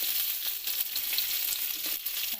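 Chopped onions and green chillies hit hot oil with garlic, producing a dense, loud, hissing sizzle that continues unbroken and close, with no voices.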